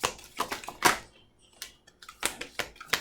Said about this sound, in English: I'm just gonna give this 2 more shuffles.